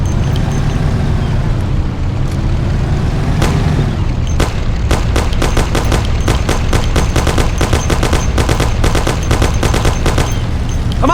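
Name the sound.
Thompson submachine gun fire in the video game Mafia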